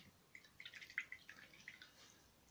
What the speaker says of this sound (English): and then wash my brush